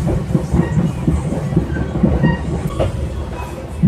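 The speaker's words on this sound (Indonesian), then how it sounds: "sesaat lagi kereta Anda akan tiba di stasiun Padalarang" Passenger train rolling in toward Padalarang station, a steady close rumble of wheels and carriages with faint clacking, continuous and moderately loud throughout.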